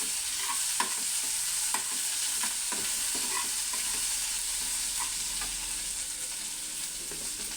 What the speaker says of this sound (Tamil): நல்லா வதங்கினோன்னே பூண்டு வெங்காயம் வதங்கட்டும்